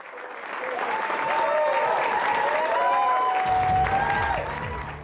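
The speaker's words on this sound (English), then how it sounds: "a warm round of applause for Boris Johnson as he makes his way back to the office" Warm, sustained applause from staff inside Downing Street greeting Boris Johnson after his 2019 election win, dense clapping swelling and holding steady with faint voices and cheers mixed in.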